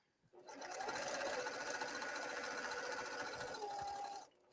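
A sewing machine stitches fabric in one continuous run of about four seconds, a steady close whirring rattle that starts and stops cleanly with no talk over it.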